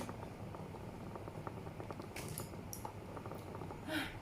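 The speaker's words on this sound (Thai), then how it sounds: "น้ำเริ่มเดือดแล้ว" Water coming to a boil in a sukiyaki hot pot with shellfish, a soft steady bubbling patter close by, with a few faint clicks and clatters over the top.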